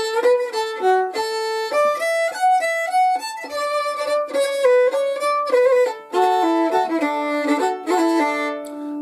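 Solo fiddle plays the closing four bars of the tune Bonaparte Crossing the Rhine, a steady run of bowed notes with a bright, close tone and no talk.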